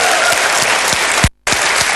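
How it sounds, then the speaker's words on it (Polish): Loud, dense studio-audience applause on a Polish TV entertainment show, a steady wash of clapping with a brief cut of silence partway through. "Oklaski."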